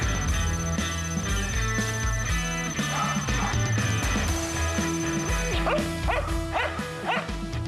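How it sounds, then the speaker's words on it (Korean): Police detection dog on a narcotics search barking after locating a hidden sample in a box, repeated barks and yips over a busy background with music-like tones. "시료를 찾은 미르는 이내 짖으며 자리를 지키는데요"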